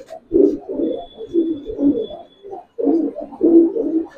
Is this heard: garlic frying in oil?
no